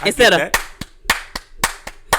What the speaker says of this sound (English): some of you clap on the 2 instead of the 1